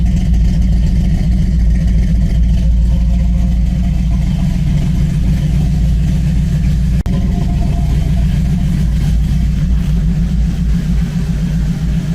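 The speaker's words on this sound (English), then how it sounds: "Man, the thing's idling like nice." A 2014 Cadillac CTS 2.0T idling after priming, a loud, close, steady low engine rumble with an even pulse and one brief click midway.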